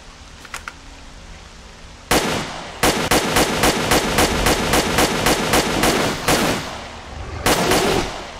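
Loud, rapid bursts of gunfire with explosive ammunition in S.T.A.L.K.E.R.: Clear Sky with the Arsenal Overhaul mod, sharp explosive cracks in several quick volleys separated by short pauses, close and dominant.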